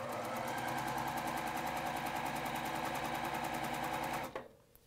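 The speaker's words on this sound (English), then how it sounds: "we can send this through the sewing machine." A sewing machine stitches quilt pieces in a fast, even mechanical rattle, loud and close, running steadily for about four seconds before stopping abruptly.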